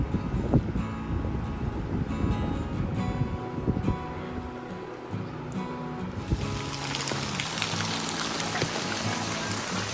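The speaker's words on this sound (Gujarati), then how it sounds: "વરસાદ તો તમે જોઈ શકો મારા પાછળ" Rain pours outdoors during the monsoon, a dense continuous hiss with scattered drop taps and patters, growing brighter and fuller partway through, with no voices.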